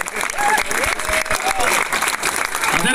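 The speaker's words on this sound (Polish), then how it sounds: "I brawa dla kibiców!" A stadium crowd at a third-league season finale in Chorzów claps for the fans, a steady roar of applause with whistles and scattered shouts, and a voice calls out over it.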